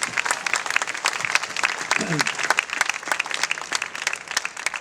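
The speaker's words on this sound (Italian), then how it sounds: "Bell'applauso." A theater audience at an Italian summer concert presentation breaks into sustained, even applause, a continuous patter of many hands clapping nearby.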